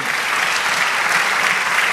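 A church congregation applauds during a sermon, producing a dense, loud, even wash of clapping from many hands that continues without a break.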